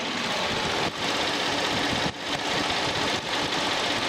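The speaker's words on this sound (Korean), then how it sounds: "엔진룸 열어놨고요 소리 한번 들어볼게요" A Hyundai Grandeur HG 3000cc V6 engine idles up close with the engine bay open, a smooth, even rumble and light mechanical ticking, the hum dipping briefly a few times.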